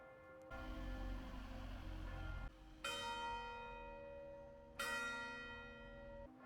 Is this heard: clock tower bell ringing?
yes